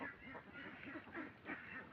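Ducks on a duck farm quacking repeatedly in a lively overlapping flock, several nasal calls rising and falling close by with no talk over them.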